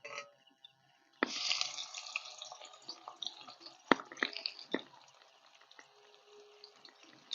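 Chopped onion drops into hot white oil and starts to fry, a sudden hissing sizzle with crackles and pops that slowly settles into a softer frying sound, with no voices.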